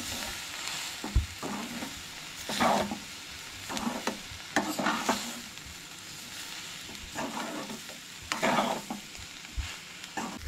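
A spice masala with turmeric sautés in a pan, stirred vigorously in repeated scraping bursts over a continuous close sizzle, with pauses between strokes and no voices.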